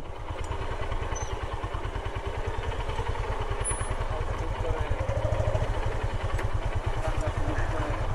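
A motorcycle on an off-road trail to Lal Pahar during a Dhaka to Sylhet bike tour through Srimongol, its engine thumping steadily and close for the whole stretch, with a rough rattling chug and no talk.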